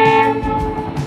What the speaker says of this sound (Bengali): আর ট্রেনটি কিন্তু একটু বেঁকে বেঁকে আসছে, বাঁক নিয়ে আসছে